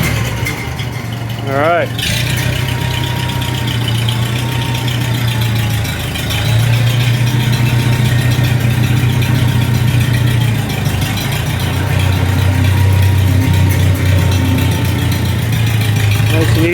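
Tractor engine idling and rumbling steadily at close range as it backs out of a garage, a low continuous chug that swells slightly, with a brief spoken word near the start.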